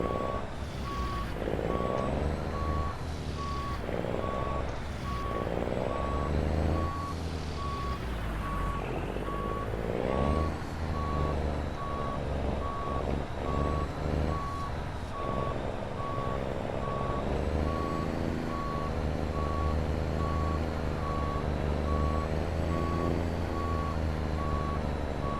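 A heavy truck towing a trailer on a dolly reverses for a long stretch, its backup alarm beeping at a steady, regular pace over the deep, continuous drone of the engine.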